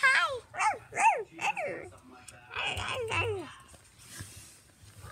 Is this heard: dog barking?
yes